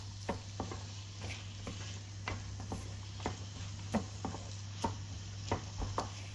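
Guar bean pods roast in a pan with a low sizzle, punctuated by light irregular taps and scrapes as they are stirred, close and fairly quiet over a steady background hum.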